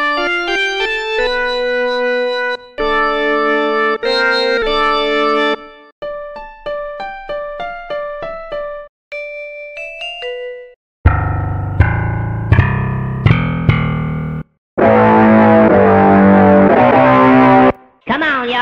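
Electric toy sounds from the UVI Toy Suite sample pack play in a sequence of short tonal phrases, beeps and buzzy distorted tones, loud and close, with brief gaps between the sounds.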